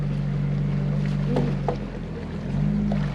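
A crowded boat's motor drones steadily across the water near Palad Sandbar, Marinduque, a low continuous hum with occasional faint splashes and knocks.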